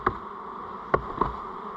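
Nurse honey bees shaken into a tub during a varroa mite test give off a faint, steady buzzing, with a few short knocks and bumps rising above the low drone.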